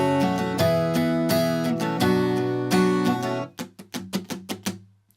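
Acoustic guitar chords ring out in rhythmic strums, then give way to a quick run of short, choked, percussive muted strums.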